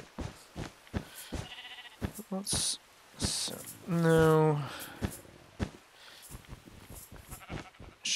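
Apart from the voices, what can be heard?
sheep bleating in a video game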